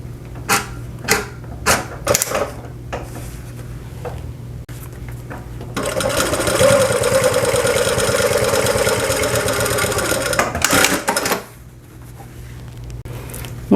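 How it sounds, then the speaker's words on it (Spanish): A sewing machine stitching a handmade wallet runs in a steady continuous whir for several seconds, after a series of separate clicks and taps, with no talking. "Aquí vamos a colocar los clips para que nos ayude a sostenerlo y vamos a empezar a coser."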